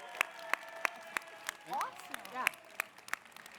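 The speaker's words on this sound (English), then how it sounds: "Let's give another applause for Denman Middle School." A handful of sharp, evenly spaced claps ring out at a school coding pitch event honoring Denman Middle School, sparse and fairly quiet, with a person speaking briefly between them.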